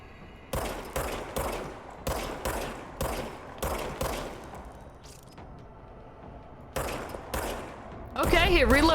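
Repeated gunshot bursts from a player's gun in the video game Control, about a dozen loud sharp blasts in a steady rhythm with a gap before a final flurry, close and dry with nothing else competing.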